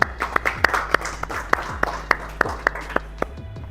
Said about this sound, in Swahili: Naomba kwanza tujipigie makofi kwa sababu tumeinvest muda na effort toka asubuhi